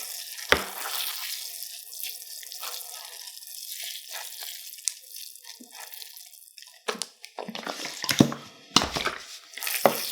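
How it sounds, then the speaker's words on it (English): Water poured over freshly sown leek seeds in a tray of soil, a soft continuous splashing and trickling that runs throughout at close range, growing more irregular with bursts of sloshing toward the end. "Now I've topped it off, and then I water it through"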